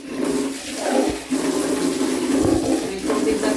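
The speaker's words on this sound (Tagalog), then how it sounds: "May tubig na tayo, medyo brown pa." Water gushes steadily through newly repaired household plumbing after a shower fitting was fixed, a loud continuous rushing flow with slight surges and no talking.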